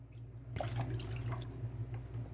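Full fat milk poured into a kadhai over melted ghee, a soft continuous liquid splash that starts abruptly and runs steadily, close and fairly quiet.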